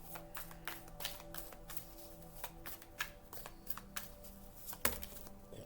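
Tarot cards shuffled by hand for a reading: a rapid run of crisp, close riffling taps and flutters with a louder snap near the end, with no voices.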